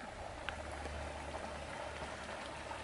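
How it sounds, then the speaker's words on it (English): A creek running through a property, a steady close wash of flowing water with faint patters and small splashes on top, continuous and even. "take a quick video of the creek that runs through the property"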